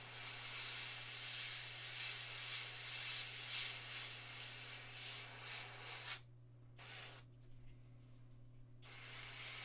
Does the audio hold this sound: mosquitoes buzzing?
no